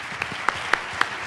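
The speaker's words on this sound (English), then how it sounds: "we'll just give a big round of applause to our experts" Audience applause for a conference panel of experts at a marketing and brand management event, a short burst of clapping with a few sharp, distinct claps standing out.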